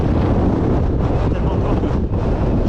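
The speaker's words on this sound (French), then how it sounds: "Tellement de vent que je suis déporté sur la gauche de la route." Strong wind buffeting the microphone on a road near the summit above Marseille, a loud continuous low roar with gusty swells throughout and no voice.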